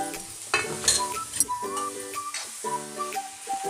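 Green chillies fry in a tempering pan for coconut and chana dal curry, with a soft crackling sizzle, occasional utensil clinks and stirring, and sustained tonal sounds over it.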